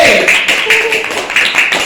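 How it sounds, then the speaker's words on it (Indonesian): Group clapping breaks out for the winning teams at a scored group competition's prize announcement, a dense patter of many hands with a voice talking over it. "Berikan tepuk tangan"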